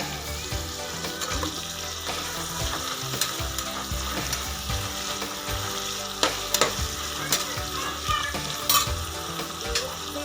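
Vegetables including beans and carrot frying in a pan for avarekalu pulao, a steady sizzle with clattering stirs and scrapes of a spoon, close and fairly loud, with some running water in the background and no talk.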